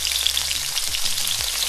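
Sea bass fries in a pan for a fish curry, giving a bright, steady sizzle close by with a couple of soft thumps from handling, and no talking.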